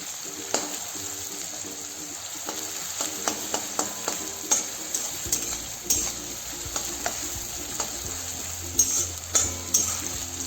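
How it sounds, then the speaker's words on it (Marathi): A spoon stirs onions frying in a pan for upma, with steady sizzling and repeated scraping and tapping strokes against the pan at an uneven rhythm, close and moderately loud. "असं सतत ढवळत घ्यायचं आहे नंतर कांदाही करपेल खाली"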